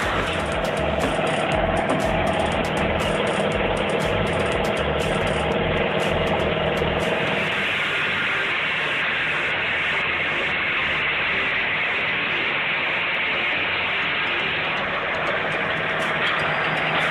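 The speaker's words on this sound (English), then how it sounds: "This machine crushes giant logs while saving massive amounts of time and labor." A T60100 log splitter runs with a continuous heavy mechanical drone and grinding hum, loud and steady throughout, its tone shifting slightly partway through.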